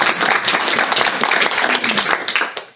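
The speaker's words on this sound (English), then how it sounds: "So a round of applause for Monica." Audience at a community sustainability convergence giving a round of applause, a close, lively burst of many hands clapping that holds steady, then tapers off at the end.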